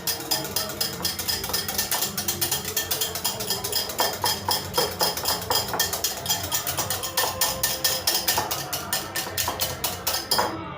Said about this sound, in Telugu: ఫస్ట్ పెరుగు ఈ బౌల్లో వేసేసుకొని విస్కర్ తీసుకొని మంచిగా కలపండి